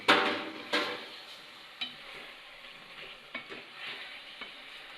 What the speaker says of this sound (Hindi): अब हम अपना चिकन इसमें ऐड करेंगे और उसे भी अच्छी तरीके से फ्राई कर देंगे